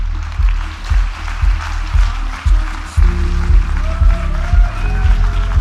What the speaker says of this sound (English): With a great round of applause, help me welcome Dr. Matthew Olomide